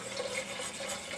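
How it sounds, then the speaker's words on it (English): Water is poured gradually into a simmering cabbage roll sauce, giving a soft, steady trickling wash that stays faint and continuous for a brief moment. "gradually add the rest of the water"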